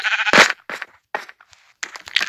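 Sheep bleat in a Minecraft football stadium mod: a string of four or five clear, close bleats with short gaps between them, heard alone.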